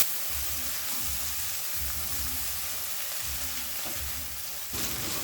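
Ground spices with turmeric and pepper sizzling steadily in oil over a medium flame, with a rhythmic scraping of stirring every second or so, close and continuous with no voices.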